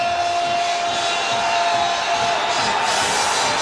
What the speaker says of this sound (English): The crowd build a noise on the terraces